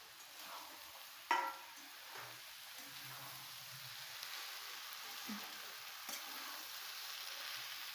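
Potatoes tip into hot oil with fried chillies for vada pav, giving a faint, steady sizzle with a soft clack of a spoon near the start and light stirring scrapes throughout.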